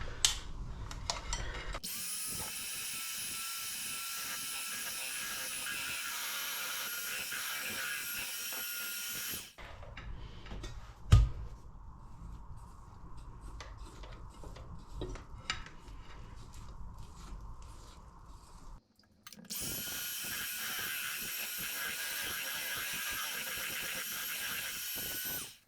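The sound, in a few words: electric whisk mixing batter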